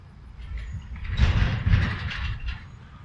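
Rumbling mechanical clatter and creaking of a passing train's wheels and couplings in Milner, Georgia, swelling then easing over a few seconds with no talk.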